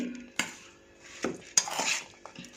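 Green turmeric pickle mixed in a bowl with a spoon, a few sharp metallic clinks and wet scraping strokes at irregular intervals, close and without talk.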